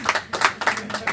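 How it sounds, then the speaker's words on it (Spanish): A short burst of hand clapping from a class audience, quick and uneven, with several pairs of hands clapping at close range. "Y vamos a darle un aplauso a estos que están aquí"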